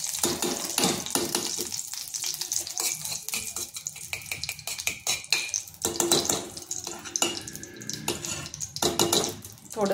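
Ghee, about half a spoonful, heats in a pan on the stove, giving a close, continuous crackling sizzle with small spatters and clinks of the spoon throughout.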